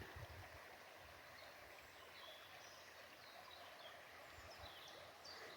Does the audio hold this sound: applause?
no